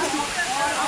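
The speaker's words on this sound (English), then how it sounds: "Sai Rung Waterfall." Rushing water pours steadily at Sai Rung Waterfall in Khao Lak, Thailand, as a broad, close, constant roar filling the short moment.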